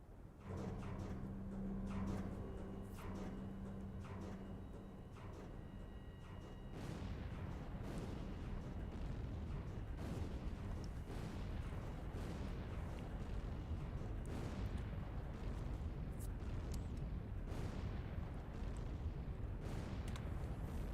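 Mortar launched from a minigun in a video game, firing in a steady run of booming blasts that keep going for about twenty seconds, with a low droning engine hum underneath at the start.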